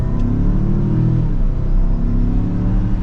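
A 2023 Mazda CX-5 Signature Turbo AWD accelerates from the cabin, its turbo engine note climbing in a smooth, loud, continuous rise.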